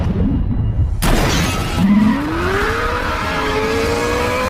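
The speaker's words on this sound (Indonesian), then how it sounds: "mengerem dadakan sampai membuat mobil mereka terguling" Film scene of a car braking suddenly and overturning: an abrupt crash and shattering impact followed by screeching tires and a rising, sustained engine whine, loud and close.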